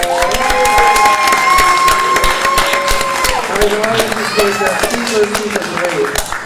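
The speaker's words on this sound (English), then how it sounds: "Give yourselves a round of applause." A studio audience claps and cheers loudly and continuously, a dense roar of applause with shouts and whoops rising over it throughout.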